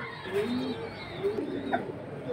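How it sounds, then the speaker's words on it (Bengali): Soft, low pigeon coos repeat a few times close by, with faint chirps and light background noise and no talking. "সিলভার জাবরা তোতা শেপের পাখি কবুতর"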